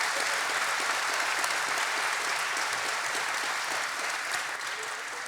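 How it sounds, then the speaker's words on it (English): A banquet audience at a chamber of commerce annual meeting gives sustained, dense applause for the servers, loud and continuous before tapering slightly near the end. "Let's have a round of applause for all of our servers."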